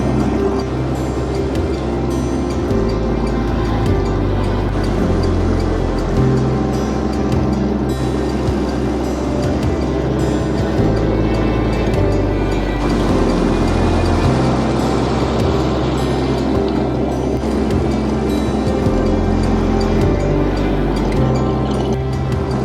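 A boat engine running on Lake Temagami in Ontario, a loud, continuous low droning hum that holds steady for the whole stretch with faint water wash beneath.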